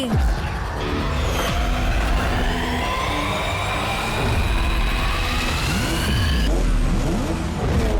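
A cartoon sports car races in with a loud engine roar and rising revs, whooshing past with sweeping pitch changes and a siren-like wail layered over a busy animated soundtrack.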